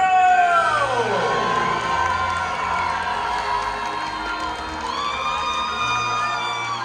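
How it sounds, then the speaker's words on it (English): An arena crowd at a Medieval Times jousting tournament erupts in loud cheers and whoops for the knights, many excited voices including children's, sustained throughout and rising again near the end. "cheer now for your heroes, the Knights of the Realm!"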